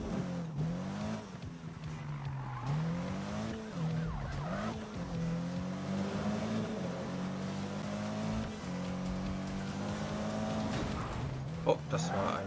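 A car driving in Need for Speed, engine droning steadily with pitch rising and dipping through gear shifts and some tire squeal, fairly quiet, with someone talking over it.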